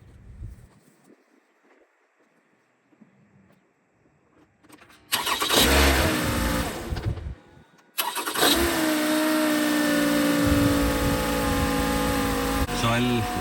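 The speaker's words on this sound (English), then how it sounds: "So I'll start the engine now and let's see if there's any oil leak." A 2010–2011 Toyota Camry engine, after valve cover gasket work, cranks and starts, settles briefly, then catches again and runs at a steady, fairly loud idle close by.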